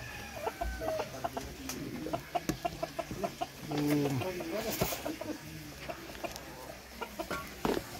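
Black-meat Chinese breed chickens cluck in short repeated bursts at a farm, fairly close but soft, with faint voices and other fowl sounds in the background.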